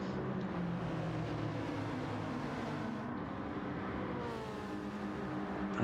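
Race cars battle in a close pack at Willow Springs in Gran Turismo 7, including Alfa Romeos, Mazdas and a BMW, with engines droning steadily and overlapping, held at a constant moderate level with no pauses.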